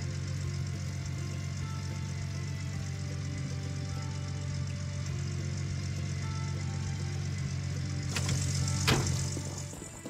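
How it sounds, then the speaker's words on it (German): An engine idles steadily after being started at an Alaskan gold-mining site, a continuous low rumble with a mechanical knock that rises slightly in level near the end, with a brief sharp noise burst. "Habe ich auch den Motor angelassen."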